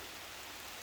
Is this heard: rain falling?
yes